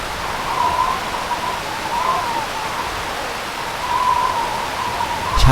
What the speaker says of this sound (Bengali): নৌকা মাঝ নদীতে পৌঁছাতেই হঠাৎ প্রবল বেগে ঝড় শুরু হয়।